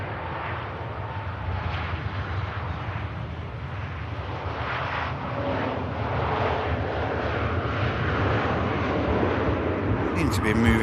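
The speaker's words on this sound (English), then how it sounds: "Ryanair, it's about to touch down." A Ryanair airliner touches down at Manchester Airport in the rain, a loud, steady broadband jet roar that holds through the landing and builds slightly toward the end.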